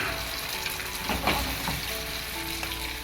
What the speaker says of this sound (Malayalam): ഇനി ഞാൻ ഇതിലേക്ക് മുട്ട ഒഴിച്ചു കൊടുക്കുകയാണ്.